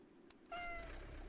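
A cat meow from a catfish in the VR fishing game Crazy Fishing VR: one clear, drawn-out meow rising out of quiet background and holding steady for nearly a second with no talk.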